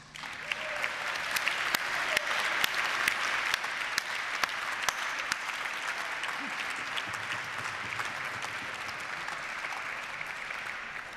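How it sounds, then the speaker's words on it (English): Sustained applause from the audience at a regional television awards gala, a broad, even roar of clapping with scattered crisp hand claps, continuing at a steady level for the whole stretch. "And most of the trainers who were there are with us tonight, and I think they deserve applause."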